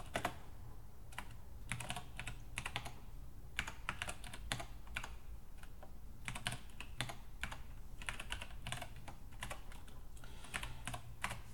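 Rapid typing on a computer keyboard while entering commands in a Windows command prompt, with close, crisp key clicks in quick irregular bursts and short pauses over a low steady hum, with no talking.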